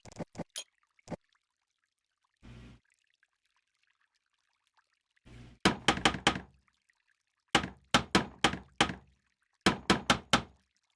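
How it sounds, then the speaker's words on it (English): Hammer strikes on wood while making firewood for a campfire in a video game, loud and close: a few isolated knocks, then three tight bursts of rapid, sharp hits separated by short pauses. "Bring out my hammer and I start hitting."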